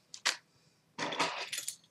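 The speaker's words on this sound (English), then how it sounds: "my keys" Keys jangling as they come out of a purse: a short metallic jingle, a pause, then a longer bright rattle of clinking keys, close and fairly loud with no talking.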